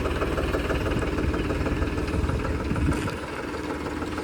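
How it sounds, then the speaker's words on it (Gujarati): A new Farmtrac 42 Pro Max tractor runs nearby with a steady low idling rumble, its engine note constant and fairly loud, easing slightly toward the end. "આ ભાઈએ નવું ટ્રેક્ટર લીધું, ફાર્મોટ્રેક 42 Pro Max"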